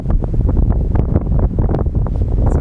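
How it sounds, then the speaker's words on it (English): Strong gusting wind buffets the microphone on a highway during a cycling trip, roaring in a loud, continuous broadband rumble with uneven surges and no voices. "Oh man, what a windy day."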